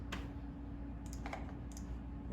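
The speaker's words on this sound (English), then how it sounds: "So I'm clicking what I would normally index." Quiet mouse clicks, three or four of them spaced out, sound over a steady low hum from a vision system computer used for measurement calibration.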